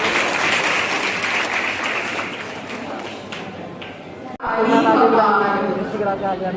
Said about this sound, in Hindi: तो इसलिए जो है जोरदार तालियां जैनब जुनैद के लिए।